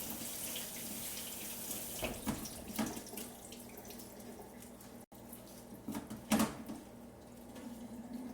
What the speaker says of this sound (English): going to go ahead and rinse off the rest of this lettuce.